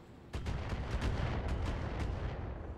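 Incoming missile fire in the mech combat video game BattleTech, a quick volley of rapid, booming thuds and explosions rumbling on at a moderate distance, with no talking.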